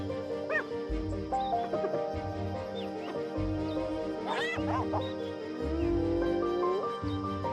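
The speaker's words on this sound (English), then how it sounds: "Instead, there are weak whimpers and ragged breaths." Wild hyenas in Kenya's cracked red-dust landscape whimpering after being attacked by lions, giving high wavering whines and yelps in irregular bursts, fairly close, with a low background hum and no talk.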